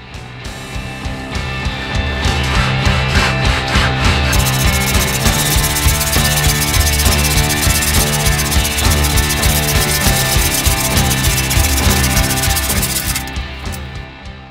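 A loud, steady saw cutting thin tongue and groove boards for a bookcase for over ten seconds, a dense buzzing whine that starts up and winds down at the ends.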